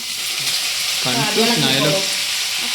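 Sliced onion and paneer frying in a hot pan, a loud steady sizzle with a short tonal squeak partway through and light stirring, close and without talking.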